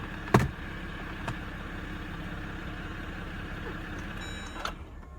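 A 2018 Jeep Grand Cherokee engine idles with a low steady rumble, then a brief clunk, and near the end the running sound fades out as it is switched off.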